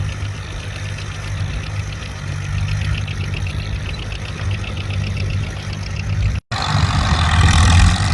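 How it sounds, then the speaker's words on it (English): A Farmall 300 tractor engine pulls a 3-bottom plow through a field, making a steady mid-pitched rumble with a faint regular knock. There is a brief cut near the end, after which the engine comes back louder and rougher. "We got that Farmall 300 that we just looked at out here with the 3-bottom, and he's cutting his down furrows"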